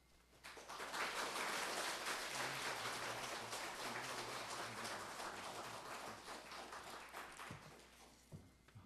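A church congregation gives a pastor a long, loud round of applause at a revival meeting, the dense clapping filling the room for most of the clip before tapering off near the end.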